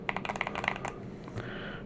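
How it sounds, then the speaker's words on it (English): Typing on a Keychron K8 Max mechanical keyboard produces a quick burst of crisp, close clacking keystrokes in an uneven rhythm, then a softer trailing rustle. "a keyboard that I just bought from the official Keychron website"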